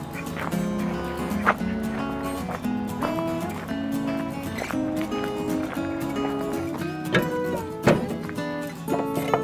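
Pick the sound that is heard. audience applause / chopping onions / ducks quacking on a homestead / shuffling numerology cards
ducks quacking on a homestead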